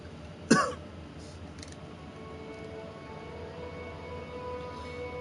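A single short, awkward cough in the game Burly Men at Sea near the start, fairly close, followed by quiet steady background hum with no talking.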